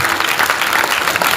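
An audience at a swamiji's spiritual discourse breaks into loud, sustained applause, a thick even patter of many hands clapping at once that fills the space without a pause.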